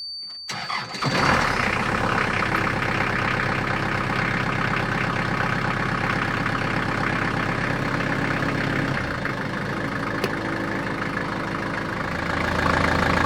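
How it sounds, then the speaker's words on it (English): A narrowboat engine cranks and fires within the first second, then settles into a steady, loud, rumbling idle that runs unbroken for the rest of the clip, with no talking. "First job to do before Charlie comes and shows me the ropes is to start the engine."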